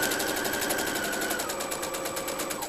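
A sewing machine stitches a zipper bag, a fast, even mechanical chatter of needle strokes, close and steady with a faint whine, and no voices.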